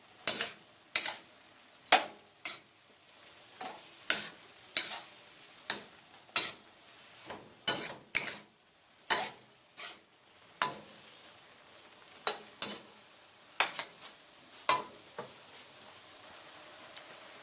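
Sauce with sugar and brown sugar being stirred in a pan for spicy Thai chicken with basil, heard as a regular series of sharp utensil taps and scrapes against the pan over a faint sizzle, close, with no talk.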